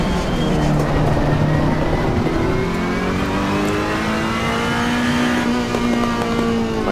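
A race car engine in Assetto Corsa Competizione roars continuously through a hot lap, its pitch climbing and dropping through gear changes, loud and close with no talking.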